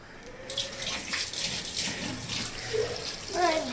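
Tap water runs steadily into a sink as ingredients for butter chicken are washed, a continuous close gush that holds through the whole stretch with small splashes and clatters.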